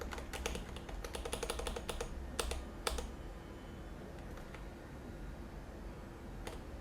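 Code is typed on a computer keyboard in quick bursts of close, crisp key clicks, followed by a few sparse taps, over a quiet background.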